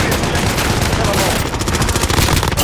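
Video game gunfire rattles on in dense, continuous automatic bursts, loud and close, filling the whole moment with no pause.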